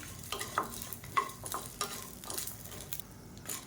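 Shallots and tamarind frying in a pan for a protein chutney, with scattered soft sizzles and irregular stirring scrapes, fairly quiet and close.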